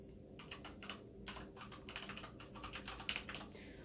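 Fast, uneven clatter of typing on a computer keyboard, close and clear, with short pauses between bursts of keystrokes and no voices.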